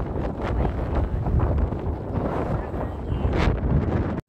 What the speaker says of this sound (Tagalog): Yan guys, sobrang lakas ng hangin.